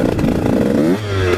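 A 150 SX dirt bike ridden slowly, its two-stroke engine buzzing steadily up close with a slight shift in pitch partway through, rough and loud with no speech.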